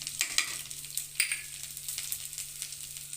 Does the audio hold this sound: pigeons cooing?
no